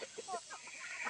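Native chickens clucking on a farm, a quick run of short, close clucks and chirps over a soft background hiss.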